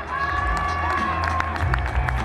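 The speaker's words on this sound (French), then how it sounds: "Allez, on l'applaudit bien fort." Crowd at the Défi Folie event at La Clusaz, a speed and distance water-landing challenge, cheering and applauding a competitor, a dense, loud, sustained wash of claps and shouts with a voice over it.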